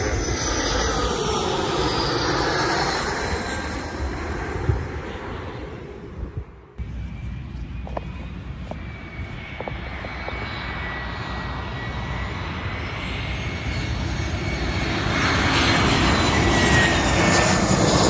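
A fixed-wing airplane passes low overhead near a riverside bike trail by an airport, its engine roar swelling loud, fading briefly, then building again as another aircraft approaches from a distance.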